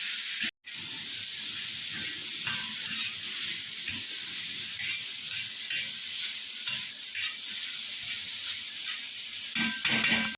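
Onion and tomato for egg bhurji fry in a pan on a high flame, producing a steady, close, hissing sizzle with occasional stirring scrapes and no talking.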